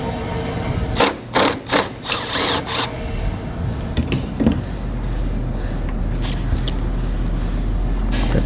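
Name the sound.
ratchet with extension loosening 12 mm battery bolt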